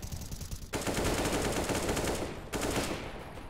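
Loud, continuous automatic gunfire from a Counter-Strike match during an ESEA Advanced league game, rapid shots rattling almost nonstop with a brief lull before resuming.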